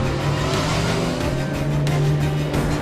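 Race cars lap a circuit during qualifying at Dijon-Prenois, with a loud, close engine roar that holds steady throughout and brief tire noise.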